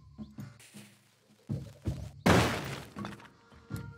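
A bomb blows up in the roguelike platformer Spelunky 2, a loud crashing burst in the middle that rings off, set among softer game thuds and knocks, with no talking over it.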